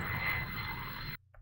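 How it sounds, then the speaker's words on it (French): A cartoon airplane flies overhead with a loud, broad jet-like roar that holds steady, then cuts off abruptly near the end. "c'est juste un avion."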